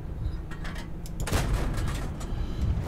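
Gunfire in the video game Droga na Berlin, a loud sharp shot near the middle followed by a burst of booming, rumbling reports and echoing battle noise throughout.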